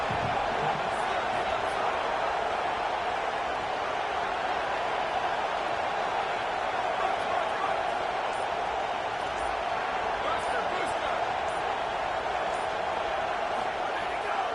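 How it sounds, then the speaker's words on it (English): Dense, steady roar of a football stadium crowd at a fourth-down stop, a broad wash of many voices sustained without break across the whole stretch, loud and enveloping. "this crowd is making it miserable on this offense"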